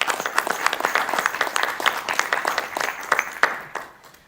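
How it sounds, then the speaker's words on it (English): An audience at a school board meeting applauds the board members, a dense run of steady hand clapping from a roomful of people that tapers off toward the end, with no talk over it. "Let's give them a round of applause."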